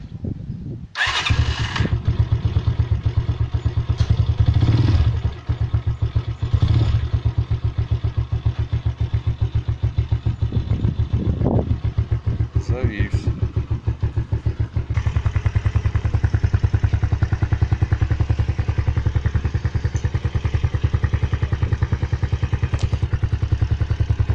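A Lifan LF1502e motorcycle engine at about 10,500 km cranks and fires within the first seconds, then settles into a steady, close mid-pitched idle with a slight rise in revs around the midpoint before holding even again.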